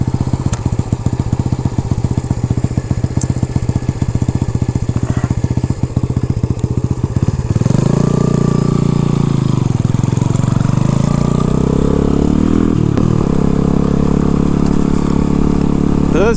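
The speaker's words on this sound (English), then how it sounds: "this bike rides pretty good on the street" A small modified Honda motorcycle engine runs loud and close, idling with a rapid throbbing putter before the pitch rises and wavers as it revs, with no talk over it.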